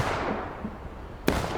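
A single gunshot rings out in the Civil War battle game War of Rights, a sharp crack over a low, rumbling battlefield ambience.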